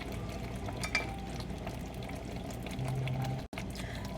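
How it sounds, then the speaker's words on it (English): Egg curry with coconut milk simmers gently in a pan on lowered heat, a steady soft bubbling and faint sizzle running evenly throughout, quiet and close, with no voices. "I'm going to lower my heat and allow it to simmer for another couple minutes"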